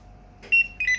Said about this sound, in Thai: เครื่องแรกยิงมาโค้ดตัวนี้ทีหนึ่ง แล้วก็ยิงชื่ออารยาทีหนึ่ง